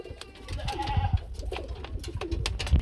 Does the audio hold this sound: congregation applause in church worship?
no